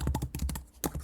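Quick bursts of key presses on a computer keyboard as a name is typed, about a dozen crisp clicks in a fast uneven rhythm with a short pause near the end, close and clear with no talking.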